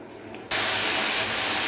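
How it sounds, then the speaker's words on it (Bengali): Tomatoes and onions hit hot oil in a pan for a dhaba-style egg masala curry, bursting into a loud, steady hiss that starts suddenly and carries on without a break. "তো এটাকে এবারে একটু সময় নিয়ে খুব ভালো করে আমরা ফ্রাই করে নেব।"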